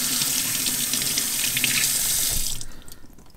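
A water tap runs steadily into a sink while a butchered quail is rinsed, a close, loud rushing stream that is shut off near the end and fades to quiet.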